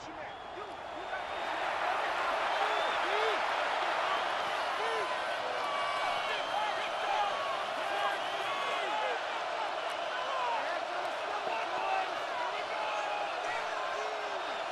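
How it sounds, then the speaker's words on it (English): Stadium crowd noise from Madden 26 during a Falcons versus Dolphins football game, a steady loud roar and cheer that rises after the first second and holds throughout, with commentary-like voices faintly mixed in. "And the crowd a major factor now."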